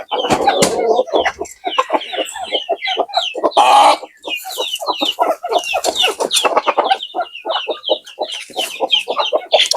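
Many free-range village chickens and roosters cluck and squawk on a small farm, a dense, busy chorus of overlapping calls close by, with one louder burst near the middle and no talking.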